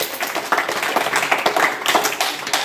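Children in a school classroom clap together during a readiness activity, producing a busy, sustained flurry of light hand claps with brief surges, fairly close and loud.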